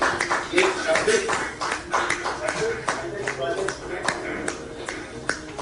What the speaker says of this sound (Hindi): खड़े होकर ताली बजाते